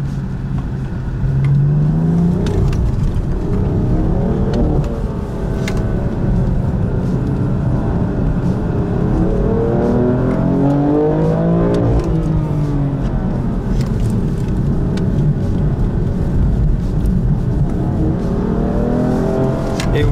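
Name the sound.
GT4 race cars speeding past at the Pau Grand Prix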